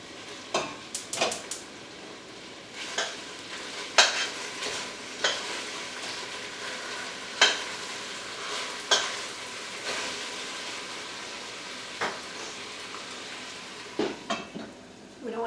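Meat cooking in a pan for an Asian dinner, a continuous low sizzle punctuated by repeated sharp clacks of a utensil stirring and scraping against the pan, close and fairly loud, with no voices.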